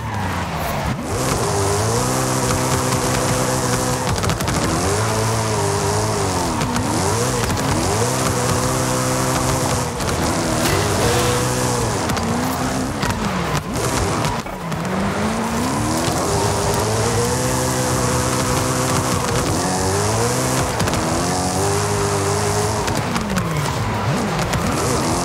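Rally car drifting through tight corners in Forza Horizon 5, its engine revving and falling in repeated sweeping pitch swoops over steady tire scrub, loud and close throughout with no voices.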